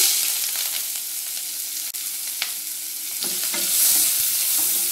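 Finely chopped onion and a green chili sautéing in oil with a bay leaf for egg kurma, loud continuous sizzle with occasional spatula scrapes, close and alone.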